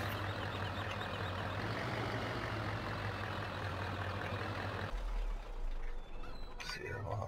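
A milk truck in a farming game on the Sherwood Park map runs with a steady low engine drone and hum, fairly quiet, shifting tone near the end, with a voice speaking briefly.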